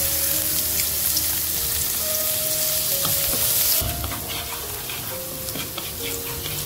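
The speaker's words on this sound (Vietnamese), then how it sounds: "Trước tiên là mình sẽ cho tỏi và củ hành tím băm nhỏ vào trong phần dầu đã được đun sôi." Minced garlic, shallots and lemongrass sizzle in hot oil with chili-marinated frog meat being stir-fried, a loud continuous crackling fry that drops slightly in intensity partway through, with occasional utensil clicks.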